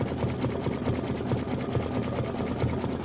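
A sewing machine runs nonstop, stitching a small Heart USA mini quilt block with a hefty needle, a close, even, rapid chatter of the needle over a steady motor hum, heard alone with no voices.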